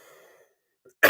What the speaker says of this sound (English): clear my throat for number 45.